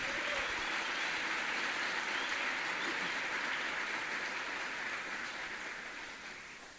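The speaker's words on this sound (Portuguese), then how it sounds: "Vamos aclamar esse texto da palavra com uma salva de palmas" A church congregation gives a round of applause after a scripture reading during a morning worship service, a dense, steady wash of clapping that holds throughout and fades slightly toward the end.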